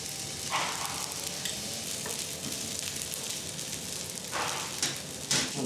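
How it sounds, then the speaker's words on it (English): Chopped onion, ginger, rice and chopped scallops sautéing in a frying pan with scallop sauce added, giving a continuous crackling sizzle with a few brighter spattering bursts, close up and with no talking. "Chopped onion, ginger, rice, and the chopped scallops are sautéed, and scallop sauce is added to the frying pan."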